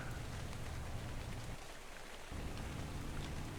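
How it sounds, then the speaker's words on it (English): Steady rain in ARK: Survival Evolved, a dense continuous hiss of falling drops with a brief dip in low rumble midway, no voices. "so it's gotta be rain."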